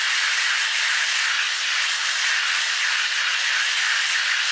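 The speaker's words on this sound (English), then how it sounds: "I'm going to do it from the other side, warm the skin up, and then scrape it." A propane torch hisses steadily and close by as it warms the steel door skin of a 1974 Dodge Charger from the inner side, a continuous broadband rush with no pauses or talk.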